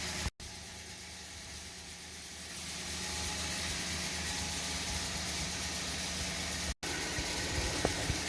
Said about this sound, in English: Alright, full throttle.